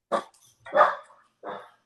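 A dog gives three loud, close barks in quick succession, short sharp woofs with brief gaps, no voices between them.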